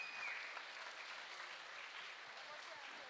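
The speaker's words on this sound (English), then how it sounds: "And so parents, please give yourselves a round of applause." Faint, steady clapping from a concert audience applauding the parents of young orchestra performers, heard at low level with a thin, distant quality.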